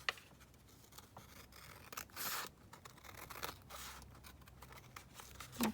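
Scissors cut fabric for a secret double pocket project in a quiet crafting space, giving a few soft, close snipping and rustling cuts with small pauses between them.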